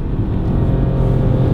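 A 2018 Ford Fiesta Vignale with a 1 litre engine accelerates up a steep incline, a loud continuous low engine drone with road rumble heard from inside the car.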